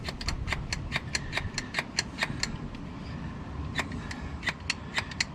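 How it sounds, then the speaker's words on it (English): A hand vacuum pump bleeds the brakes of a Mitsubishi Challenger PA2, giving quick rows of light clicking strokes that pause briefly midway and then resume, close up with no talking. "You break the seal, just crack it open, and then you just pump this."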